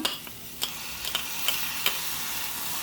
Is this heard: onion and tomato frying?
yes